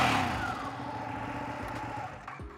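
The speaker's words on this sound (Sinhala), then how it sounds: "පාර යද්දි දෙපාරක් හැරිලා බලන්න හිතන ශබ්දයක් මේ බයික් එකේ නම් තියෙන්නේ" A Ducati Panigale motorcycle engine holds a steady, rumbling idle after a brief rev at the start, close and moderately loud, with no talk over it.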